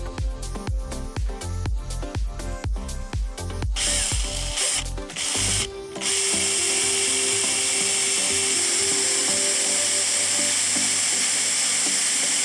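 Drilling a hole for a boat's mast foot fitting. About a dozen sharp metallic taps come first as a centre punch is struck, then a loud, steady, high drill whine runs on alone.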